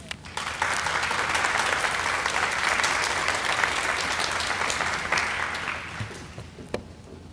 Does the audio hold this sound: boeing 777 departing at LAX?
no